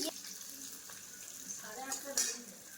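Chilli chicken cooks in a pan with a soft, steady frying hiss and a faint sizzle. Brief stirring noises rise near the end, and a quiet voice can be heard.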